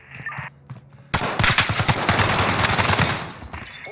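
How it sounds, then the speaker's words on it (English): Gunfire in a Modern Warfare campaign mission set in Piccadilly: after a few sparse shots, a loud sustained burst of rapid automatic fire with dense overlapping cracks continues for several seconds. "They're firing on civilians!"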